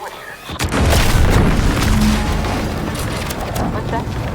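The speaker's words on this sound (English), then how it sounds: "What's that? An explosion?" An explosion in the video game The Outer Worlds 2 booms loudly and rumbles on for several seconds, a deep sustained roar with scattered crackling debris, while a voice speaks over it.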